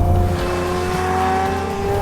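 A TWR-modified Jaguar XJS with a 650bhp 5.6-litre V12 revs hard on a wet road, its loud, smooth engine note held steady and slowly climbing in pitch, with no voices over it.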